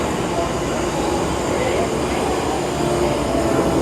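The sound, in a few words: Hogwarts Express train rolling into the station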